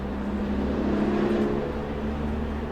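A loud car goes by outside, a steady low engine drone and road rumble that holds for a few seconds before cutting off sharply.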